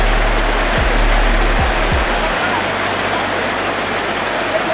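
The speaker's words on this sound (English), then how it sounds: "we're waiting for the rain to go down as well" Rain falls in the waterfall area at Kpalimé, Togo, as a steady, dense, close hiss. A low hum is audible briefly at the start.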